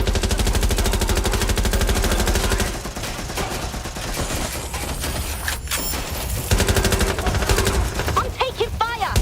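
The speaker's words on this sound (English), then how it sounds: "I'm taking fire!" Gunfire in the game Watch Dogs: Legion: dense, rapid automatic bursts fill the scene, with a short lull in the middle before the shooting picks up again, and a voice shouts briefly over the gunfire.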